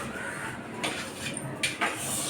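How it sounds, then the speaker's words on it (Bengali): Brass prayer-room utensils and dishes washed by hand, with running water and a few sharp metallic clinks and knocks of pots against each other close by, no voices. "দেখো সুদীপ আমার বাসন ধুয়ে দিচ্ছে ঠাকুরের বাসন"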